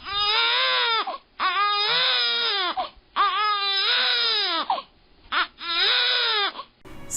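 A voice imitates a whining, crying child in long, drawn-out sobbing wails, four loud bursts with brief gaps between them, heard alone and up close.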